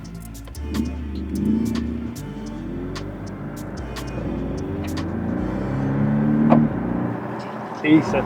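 A 2018 Porsche 718 Cayman S driven in Sport Plus mode, its engine a steady low rumble with rising and falling revs heard from inside the car, alongside a brief spoken word.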